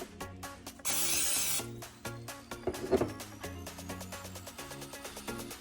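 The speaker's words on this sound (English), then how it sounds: "So I'm going to spray this with cooking spray." Cooking spray hisses from a can in one burst of about a second over an air fryer basket, fairly close and clear, with quieter kitchen handling noises around it.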